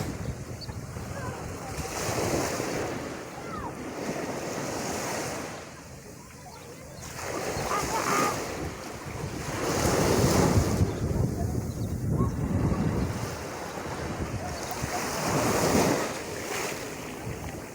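Ocean waves roll in and wash up on the shore in slow surges, with wind buffeting the microphone throughout.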